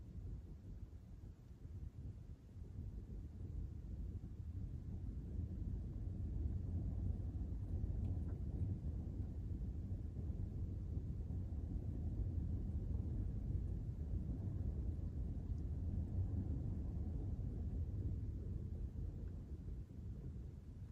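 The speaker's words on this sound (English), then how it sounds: "that was the sound of the wind." Wind buffeting the outside of a van parked in the freezing Appalachian wilderness, a steady low rumbling roar that swells and eases across the whole stretch, faint and distant-feeling with no voices.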